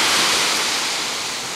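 Loud, steady roar of ocean surf breaking along the shore at a dive entry point, continuous broadband wash with no voices.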